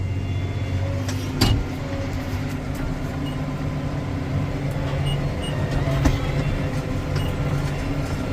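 Big Blue, a tractor working in high gear while baling alfalfa in single swaths, gives a steady, loud low engine drone with continuous rumble and a few brief knocks and rattles, with no talking.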